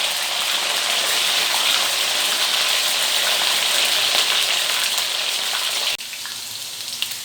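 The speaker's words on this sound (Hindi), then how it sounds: "अब हम इसमें भिंडी को फ्राई करेंगे।" Okra (bhindi) frying in hot oil in a wok, a steady loud hiss and crackle with no talk, dropping abruptly quieter near the end as the sizzle eases.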